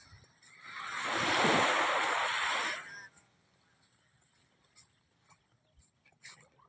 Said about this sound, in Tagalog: ito po yung baybaying dagat